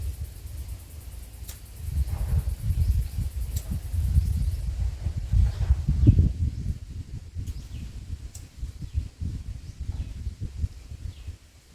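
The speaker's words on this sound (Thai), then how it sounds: "ลมกระแรงๆนะครับ" Strong wind gusts outdoors, a steady low roar that swells and buffets for the whole stretch, loudest in the middle and easing slightly toward the end, with no voices.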